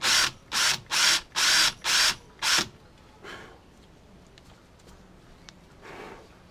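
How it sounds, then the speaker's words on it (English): Six short bursts of a power drill whirring, evenly spaced, drilling into a grease (zerk) fitting on an outboard motor's stiff steering bracket pivot tube, followed by quieter faint mechanical scraping and tapping. "I'm just going to drill in a little bit"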